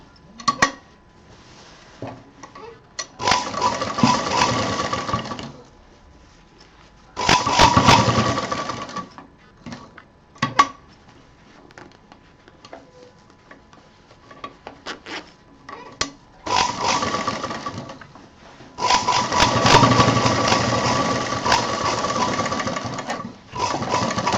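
Sewing machine stitching a handle seam on a handmade fabric handbag, running in several loud bursts of rapid mechanical clatter separated by quiet pauses.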